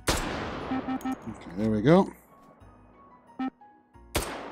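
Bursts of tracer gunfire in the VR game Hot Dogs, Horseshoes & Hand Grenades: a few sharp cracks, a short rapid volley, then a single shot and one last loud report, with brief talk mixed in.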